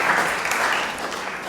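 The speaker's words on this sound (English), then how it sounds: "let's give him a round of applause" A church congregation applauds a volunteer as he walks up the nave, a steady wash of clapping hands that fills the room evenly from start to finish with no voices standing out.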